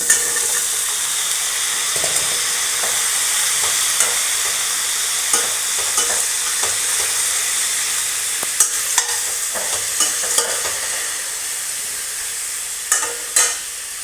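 Bitter gourd fries loudly in a pan with chilli and turmeric powder stirred in, a constant bright sizzle and steamy hiss over the whole stretch, punctuated by scraping stir strokes and louder knocks near the end.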